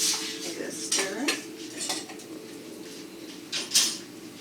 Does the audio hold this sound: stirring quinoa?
yes